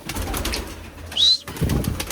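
Large pigeons kept in a netted enclosure coo in low, throaty bursts close by, with one brief higher call near the middle and no talking.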